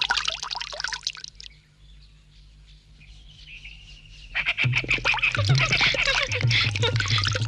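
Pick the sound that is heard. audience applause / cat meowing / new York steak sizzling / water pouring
water pouring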